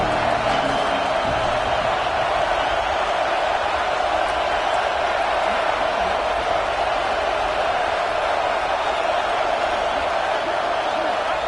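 Loud, continuous roar of a stadium crowd at a college football game as Alabama's defense faces third and goal, a dense steady wash of cheering that never lets up, with a commentator speaking over it.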